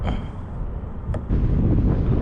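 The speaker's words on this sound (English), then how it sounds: "It's really windy out here" Gusty wind on a small lake buffets the microphone from a kayak in a steady low roar that swells louder partway through, with no voices.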